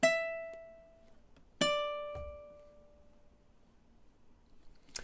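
Ukulele chord melody, a measure fingerpicked in time: two bright plucked chords ringing out and decaying about a second and a half apart, followed by a soft low tap and the start of another chord, close and clear.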